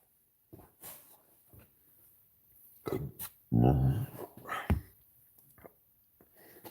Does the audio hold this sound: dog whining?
yes